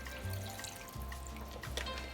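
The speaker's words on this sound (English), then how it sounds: "I'm going to be pouring some water in the pot" Water pours steadily into a pot of vegetables for a Antiguan pepperpot, a soft continuous splashing and trickling close by with no talking.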